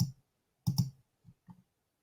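Computer mouse clicks during navigation of an online course site, a few sharp close clicks: one at the start, a quick double click near the middle, then two softer clicks, with quiet gaps between.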